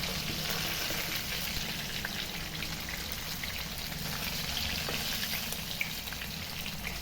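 Fish frying in coconut oil sizzles in a continuous, even hiss with a light crackle that sounds almost like rain, close and steady with no talking.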